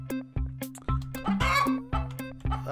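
Chicken clucks in a video game, several sharp close clucks at a steady rhythm over a looping backing tone, fairly loud with no talking.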